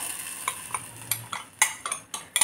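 Besan batter for a sweet-and-sour gram flour chutney is stirred in a pan with mustard seeds and neem leaves, a spoon scraping in short irregular strokes against a faint background sizzle.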